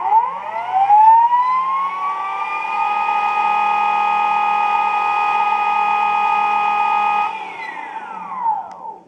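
An electric vehicle's 72V BLDC permanent magnet motor spins up from start, its whine rising steeply in pitch and holding a steady, loud tone around 4,900 RPM for several seconds before winding down at the end.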